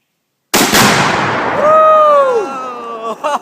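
Tannerite packed inside a dishwasher detonates when shot: one sharp, loud blast after a moment of silence, followed by a ringing metallic tone as it decays, with brief rustles and voices at the end.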